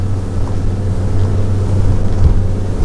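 Beneteau Antares 30 motor boat running flat out at about 25 knots, a loud steady low engine drone with a constant hum and rushing water and wind noise, without talk.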